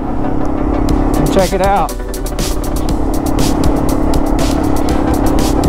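A group of Yamaha TW200 motorcycles rides in a string on the way to a ghost town, their engines droning steadily and close throughout, with a short spoken phrase over the engine noise.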